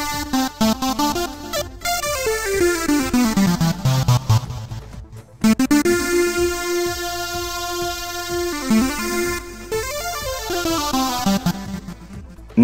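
A Korg Triton "Ribbon" preset, a bright, shimmering synth pad, sustains with gliding pitch bends and rippling harmonic movement, loud and continuous with a brief dropout midway.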